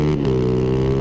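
A racer's motorcycle engine at a ZAM Concepción 2020 Vale Todo 4T and 2T final, running loud and close with a steady buzzing drone after a brief catch at the start.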